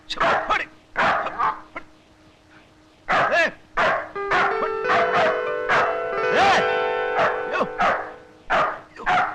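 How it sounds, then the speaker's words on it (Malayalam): Close, loud dog barks come in bursts. A sustained tonal sound rises behind them midway before the barking continues. "പട്ടി വല്ലാതെ കുറയ്ക്കുന്നുണ്ടല്ലോ"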